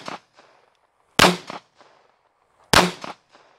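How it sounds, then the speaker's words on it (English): A .22 magnum rifle empties its magazine outdoors. Two loud, sharp cracks land about one and a half seconds apart, each with a fainter report or echo just after, and a softer shot opens the sequence. "Now we're gonna finish off the 22 mag. Well, the rest of the bullets in the magazine that is."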